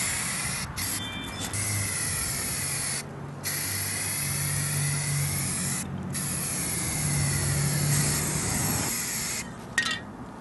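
A spray gun lays a color coat of paint on an adjustment lever in a steady, close hiss, broken by a few short pauses between passes.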